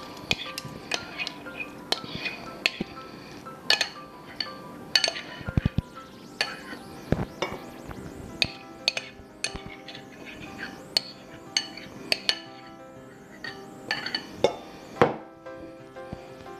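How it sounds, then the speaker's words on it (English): A spoon scrapes and clinks against a bowl while avocado potato salad with cucumber, tomato and lime sauce is mixed, giving a steady run of close, sharp taps and wet stirring sounds. "and then you just mix it all together real well"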